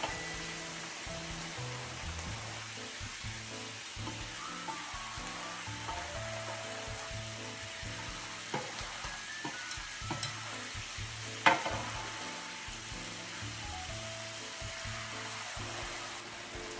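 Mushrooms and spinach are stir-fried in a pan on high heat for japchae, making a soft, continuous sizzle with light stirring clatter and occasional utensil taps.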